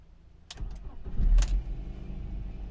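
A 1.8-litre petrol car engine cranks briefly and catches, then settles into a steady low idle close by.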